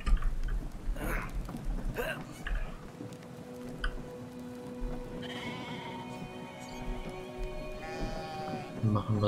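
Sheep bleating in the video game Brothers: A Tale of Two Sons: a few drawn-out, wavering bleats rise in the second half over a soft patter of ambient game sound, with some faint background noise throughout.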